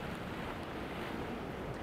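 Sea waves washing on a shore, a steady broadband wash of surf mixed with wind buffeting the microphone, continuous and moderately quiet.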